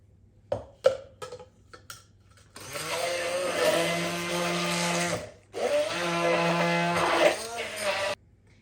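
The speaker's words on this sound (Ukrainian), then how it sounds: "І починаємо так само погружним блендером збиваємо." An immersion blender whipping homemade mayonnaise with oil whirs loudly in two long bursts with a short pause between, after a few clicks and knocks at the start.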